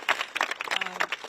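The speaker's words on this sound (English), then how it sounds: "We can clap for that." An audience claps at a Capitol Hill steps sit-in with lawmakers, a short burst of dense, close hand-clapping filling the whole moment, with crowd murmur underneath.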